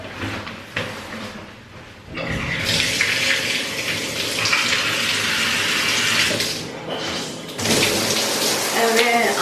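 Shower water runs steadily from a tap in a home bathroom, a broad hiss that starts after a brief quiet stretch, dips once, then resumes. A voice is faintly audible under the spray.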